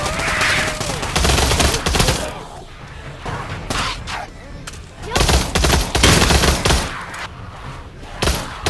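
Rapid automatic gunfire from a Pavlov zombies video game, loud, dense bursts filling most of the stretch with brief lulls, with some voices mixed in.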